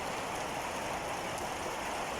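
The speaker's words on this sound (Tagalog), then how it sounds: "Patuloy pa rin po yung ulan mga kapids." Steady rain falls outside a house in the late afternoon, a dense, even hiss that stays at one level throughout with no voices.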